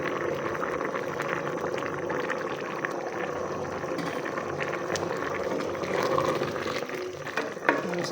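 Chickpeas frying in hot oil in a pan, a steady bubbling sizzle that runs throughout with a few brief stirs and clinks near the end.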